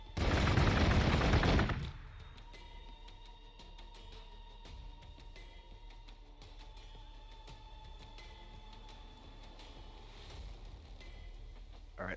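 Gunfire in Warhammer 40,000: Gladius, a loud dense burst of rapid shots for about two seconds, then a quieter steady game hum with faint ticking and a small click at the end.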